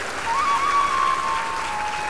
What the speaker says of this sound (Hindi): अभी तुम ताली बजा रहे हो